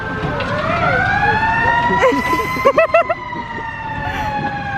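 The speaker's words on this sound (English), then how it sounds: "And then Santa came by on the fire truck, so I included that" A fire truck siren wails past on a snowy street during a Christmas-season Santa visit, its rising and falling tones loud and near, with a burst of short whoops and honks in the middle.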